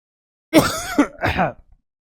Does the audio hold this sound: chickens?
no